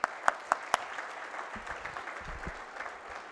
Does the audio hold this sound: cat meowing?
no